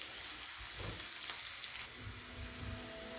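Chopped capsicum fries in a pan for pav bhaji, a faint, even sizzle with a few soft stirring scrapes, quiet and close.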